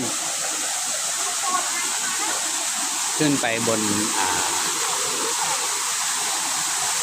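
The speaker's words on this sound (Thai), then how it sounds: "โอ้มีน้ำตก สวยด้วยนะครับ" Steady broadband rushing of a waterfall near a hillside temple fills the whole clip, loud and continuous, with someone speaking briefly over it midway.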